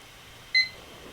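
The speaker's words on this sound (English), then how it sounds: "I'm going to start the 2-minute timer." A single short electronic beep from a countdown timer being started during a live art auction, clear and brief against a quiet room.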